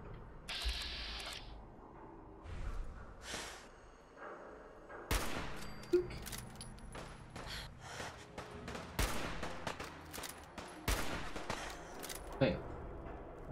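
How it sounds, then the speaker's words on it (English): Gunfire during a fight with super mutants in Fallout 4: bursts of automatic fire and scattered single shots crack across the stretch in irregular clusters, some near and some more distant, with soft game noises between them. "I hear bullets."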